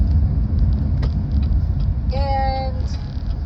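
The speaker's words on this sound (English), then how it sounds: "hold on, y'all, because there's cars coming" Cars roll past on a road nearby, a steady low rumble that stays loud throughout, with a brief higher tone partway through.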